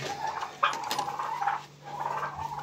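Turkeys gobble and call in bursts at a moderate distance on a small poultry farm, with scattered farmyard rustling between the calls.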